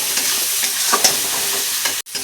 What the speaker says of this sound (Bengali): লবণ আর হলুদটা দিয়ে আর একটু কষিয়ে নেব।